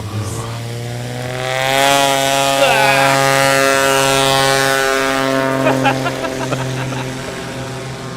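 A loud STOL propeller airplane roars past close by during morning practice at Sulphur Springs, Texas, its droning engine tone rising and then shifting in pitch as it passes and climbs away.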